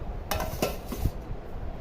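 Plates clattering and clinking as they are handled in a home kitchen, a few close, light knocks and chinks over a brief moment, with no talk.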